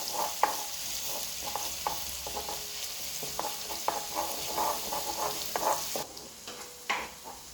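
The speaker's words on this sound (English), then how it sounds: "you can go in with your garlic and chili paste, and we'll cook that off until the smell of the garlic is gone" Garlic and chili paste fry in a pan for a Nepali fish curry, a bright, close sizzle with frequent spatula scrapes and taps; the hiss drops off sharply near the end as stirring continues.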